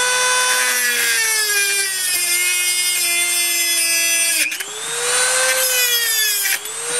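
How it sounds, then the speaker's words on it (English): A Dremel rotary tool with a cutoff wheel cuts through metal, a high whining grind whose pitch sags and rises as the wheel loads and frees up, close and continuous with a brief dip midway. "instead of a hacksaw, I just used my cutoff wheel, my Dremel tool."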